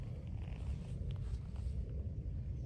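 A cat purrs close by on a golf course, a steady low rumbling that runs unbroken and fairly soft from start to finish, with no talking over it.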